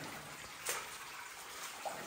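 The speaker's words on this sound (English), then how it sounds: "there's some water flowing down this cat side" Water trickles steadily down a side passage of a huge underground ironstone mine, a faint, continuous wash with a couple of soft splashes or knocks, heard alone.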